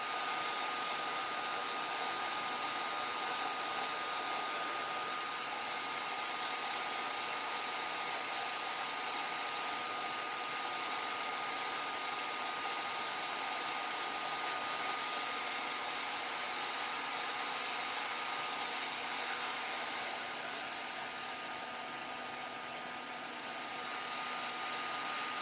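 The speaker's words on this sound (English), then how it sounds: "Usually I don't like to hold my heat tool so still, but that's the only way it's melting." Handheld heat tool blowing hot air to melt craft material: a continuous close whooshing roar with a faint whine, steady and unbroken for the whole stretch, with no talk over it.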